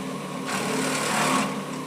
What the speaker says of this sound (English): You heard when I just drilled that hole, there wasn't any strange or odd noises.